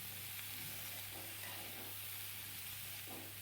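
Potatoes and chillies sizzle softly in a pan with pumpkin and Malabar spinach, a steady frying hiss broken by faint scraping stirs and a low hum underneath.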